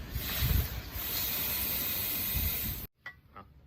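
A loud, steady hiss of compressed air from a workshop air line, blowing for nearly three seconds while checking a BMW for a gearbox oil leak, then cutting off abruptly into near silence with faint clicks.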